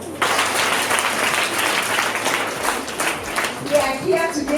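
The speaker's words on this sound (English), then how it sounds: "Can you give them a clap?" Loud applause from a school ceremony audience at a primary school in Kericho town, dense clapping throughout with some voices rising over it near the end.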